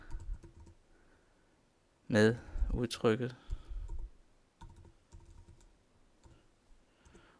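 Computer keyboard typing in Maple math software makes quiet scattered clicks and taps around a short spoken phrase, close and soft.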